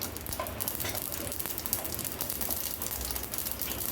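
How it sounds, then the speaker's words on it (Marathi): Half a spoon of mustard seeds crackles in a spoonful of hot ghee in a pot on a gas stove for tempering, giving a steady, close, dense sizzle with fine popping throughout and no talking. "तूप गरम झालं की फोडणीला अर्धा चमचा राई घालूया."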